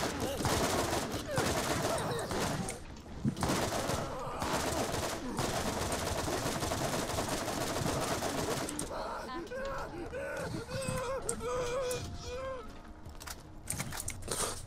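Rapid gunfire from a newly acquired gun in the Borderlands video game, dense and loud bursts over busy game sound, with chatter and other effects mixed in throughout.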